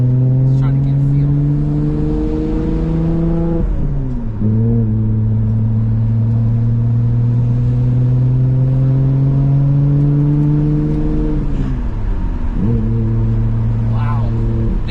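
Nissan Skyline R33 GTR engine droning loud and close from inside the car, climbing in pitch through the gears with two brief dips at shifts, a steady road roar beneath.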